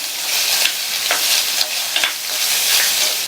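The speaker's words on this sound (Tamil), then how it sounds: "இந்த வெங்காயத்தோட கலர் மாறுற அளவுக்கு நல்லா எண்ணெயிலேயே வதக்கிக்கலாம்" Sliced large onions sizzle and fry in oil in a pan, a steady close hiss broken by a few sharp stirring scrapes, with no voices.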